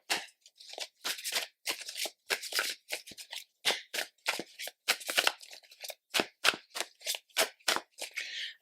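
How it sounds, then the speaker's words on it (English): A tarot deck shuffled by hand, with a long run of crisp, rhythmic card riffles and slaps, each burst sharp and close in a quiet room. "then we're going to go ahead and shuffle one more time."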